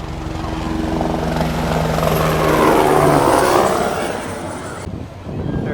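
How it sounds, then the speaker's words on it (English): A helicopter passes close over a busy St Maarten waterfront area, its rotor and engine noise loud and rising to a peak midway before fading, then cutting off sharply near the end. "Here comes a helicopter."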